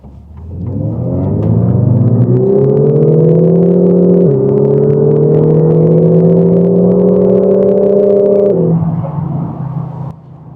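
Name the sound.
Lexus IS300h engine noise inside cabin accelerating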